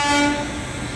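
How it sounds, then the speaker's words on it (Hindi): An LHB-coach Marudhar Express running Varanasi to Jodhpur pulls into a station, a loud brief tonal horn blast over rumbling rail noise. "साथ ही यहाँ पे LHV में मरुधर एक्सप्रेस आती हुई"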